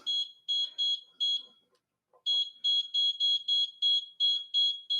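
A Geonite machine giving loud, high, evenly spaced electronic beeps in quick bursts, with a short pause partway through and some faint background noise.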